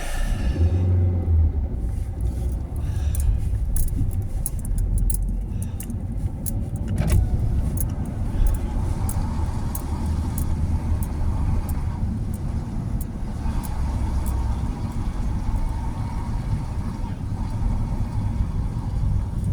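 A car rolls along a road in difficult conditions, a steady low rumble of engine and tyres from inside the cabin, continuous and fairly loud with faint clicks and rattles above it.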